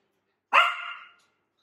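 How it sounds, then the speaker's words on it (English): A single short dog bark, sharp and fairly close, followed by silence. "but then he's like barking"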